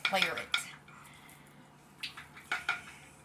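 Melted filling for pumpkin cupcakes stirred in a bowl, heard as a few sharp clinks and scrapes of a utensil against the dish, in short bursts separated by quiet.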